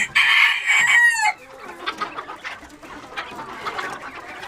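Penned quail kept for meat chirp and cluck at close range, opening with a loud burst of high calls before settling into softer, scattered clucking and rustling on a cold day.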